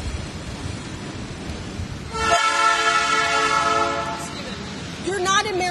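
A train in Marietta passes with a long, loud horn blast that enters midway over rumbling rail noise, after a stretch of voices talking.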